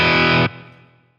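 A single distorted electric guitar chord through a Revv amp rings out with a gritty, crunchy tone, then is cut short and fades quickly.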